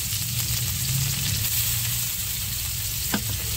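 Chopped onion and tomato fry in hot oil for a fish curry, giving a steady, close sizzle throughout with a brief sharp clink of stirring near the end; no one speaks.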